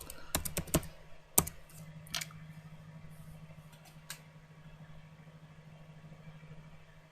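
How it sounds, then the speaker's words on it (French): Several quick keyboard taps clatter up close, then sparse clicks over a low steady hum. "fait que je tape sur le clavier"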